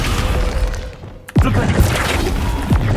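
A Descendo spell slams an enemy down in Hogwarts Legacy, striking as a sharp heavy thud after a brief lull. Combat rumble, whooshes and game sounds continue around it.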